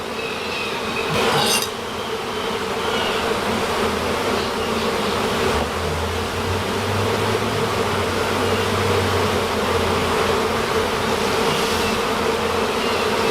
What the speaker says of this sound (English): Good mess of bees.